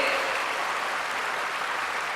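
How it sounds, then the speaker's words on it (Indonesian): Audience at a dharma talk applauding a monk's answer, an even, continuous patter of many hands clapping at moderate volume. "tepuk tangan buat jawaban Bante."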